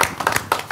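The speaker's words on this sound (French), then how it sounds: "On l'applaudit." Brief applause from an audience at an event, a short burst of several sharp hand claps in quick uneven succession, close and fairly loud, fading within a second.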